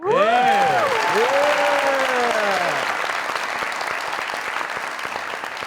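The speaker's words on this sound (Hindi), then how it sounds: "जोरदार तरीन तालियां" A voice shouts at the start over loud studio audience applause at a comedy talk show, which then carries on steadily as dense, close clapping.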